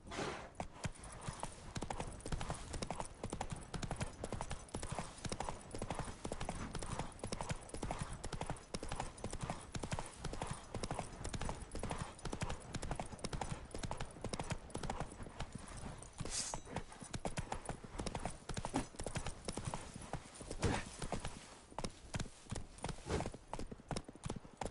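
Hoofbeats of Roach, the horse in The Witcher 3, galloping in a steady, loud clip-clop rhythm that runs unbroken and close for the whole stretch, with no voices over it.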